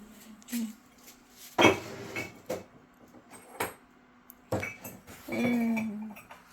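Ceramic pottery pieces and a lid clink and knock together as a kiln is unloaded, a scattered series of sharp, close clatters with a short scraping slide and some faint background speech.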